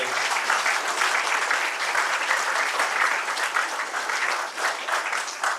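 Loud, steady applause from a large crowd, continuous clapping that holds at an even level throughout.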